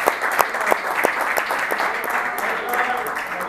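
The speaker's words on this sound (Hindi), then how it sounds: "वाजिद भाई के लिए बहुत सारी तालियां होनी चाहिए." At a cricket club's kit distribution ceremony in a restaurant, a crowd claps for Wajid in a steady, dense run of applause with sharp individual claps, while voices carry on over it.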